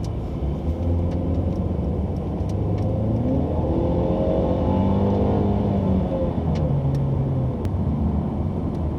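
A 2017 Mercedes-Benz C-Class Coupe driving in sport mode, its engine giving a loud, steady interior rumble with gently rising and falling revs as it accelerates, continuous throughout with no talk.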